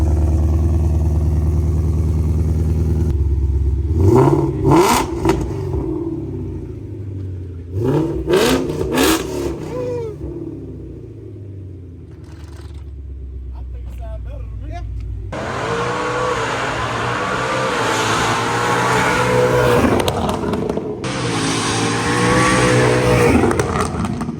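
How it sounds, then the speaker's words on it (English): A Ford Mustang GT fitted with a Stainless Works Legend Edition cat-back exhaust is started and revved, giving sharp throaty blips, a lull, then two long loud roaring pulls close by. "So now we're about to put new exhaust on, stainless work, Legend Edition."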